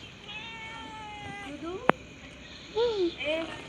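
A cat meows a few times, quietly, with drawn-out calls, a sharp click partway through, and two short rising mews at the end.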